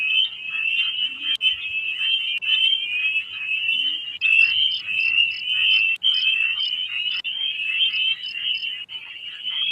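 A squeaky frog croaking sound effect from the Canva library: a steady, high, shrill trilling chorus with repeated chirps layered on top, loud and continuous throughout.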